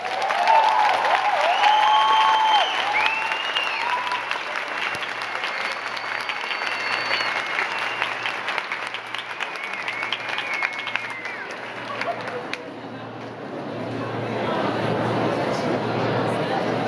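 An audience at a debate held by university professors in Belo Horizonte, Brazil, breaks into sustained applause and cheering, a steady roar of clapping hands that swells early and slowly thins, with crowd voices mixed in.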